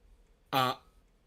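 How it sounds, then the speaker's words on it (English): A single short, throaty burp, close and fairly loud, in an otherwise quiet space. "Ooh, I just burped."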